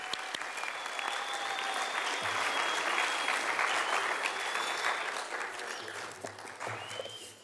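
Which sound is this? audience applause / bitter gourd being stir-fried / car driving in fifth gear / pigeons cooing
audience applause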